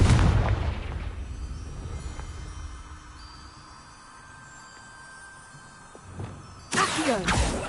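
Confringo blast spells in Hogwarts Legacy: a heavy booming explosion opens, decays into a low rumbling tail with faint ringing tones, and a second loud burst erupts near the end.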